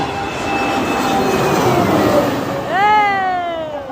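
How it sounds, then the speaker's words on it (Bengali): A Biman Bangladesh airliner passes over the runway at Hazrat Shahjalal airport, its loud jet roar sweeping past nearby with a rising then falling engine whine. "দেখুন আরও একটি চলে আসছে এটি হচ্ছে বিমান বাংলাদেশের একটি ফ্লাইট"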